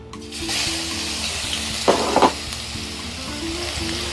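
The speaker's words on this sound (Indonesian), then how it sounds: "Saya tumis terlebih dulu bawang putih yang sudah dicincang kasar" Coarsely chopped garlic sautéing in a frying pan for a sausage stir-fry gives a steady close hiss and sizzle throughout, with a short burst of stirring or scraping in the middle and a low background hum.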